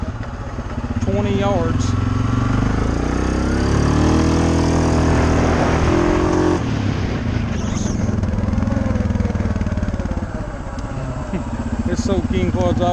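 A Suzuki KingQuad 750 ATV engine is floored, roaring loud and close as it revs hard toward the limiter, with the pitch climbing and holding throughout while someone speaks over it.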